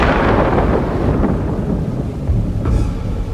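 Deep, continuous roar of a B-2 bomber flanked by F-35 fighter jets flying low over the White House, a loud broadband rumble sustained throughout with no talk.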